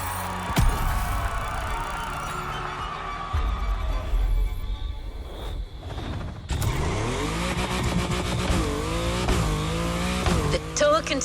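Mercedes AMG One hypercar in the racing game The Crew Motorfest, engine revving and shifting through gears with rising and falling tones, loud and close, with a voice speaking over parts of it.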